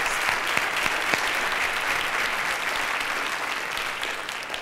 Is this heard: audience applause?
yes